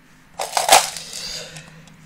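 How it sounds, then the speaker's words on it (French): Broken internal parts rattling inside an airsoft SCAR-L magazine, a brief close metallic-plastic clatter from a few shakes that quickly fades into a faint background hum. "Le bruit que vous entendez, c'est pas des billes. C'est des pièces qu'il a cassées."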